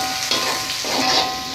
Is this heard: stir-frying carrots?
yes